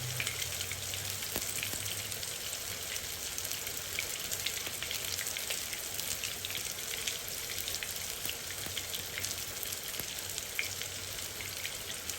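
Oil heats in a second frying pan for the sauce of a köfte İskender, giving a steady, continuous sizzle and crackle at moderate level for the whole stretch, with no talking.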